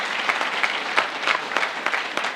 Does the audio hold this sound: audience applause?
yes